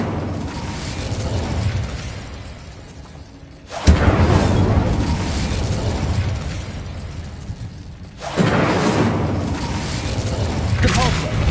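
Two Incendio fire spells are cast in a Harry Potter video game, each a sudden loud whooshing burst followed by a sustained roar, a few seconds apart.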